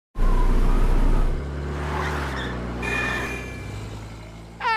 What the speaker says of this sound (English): For a ride in the car.